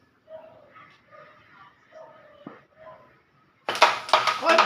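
A dog barks and yips in short repeated bursts at moderate distance, with people chatting in Tagalog around a home game setting, followed by a loud broadband burst near the end.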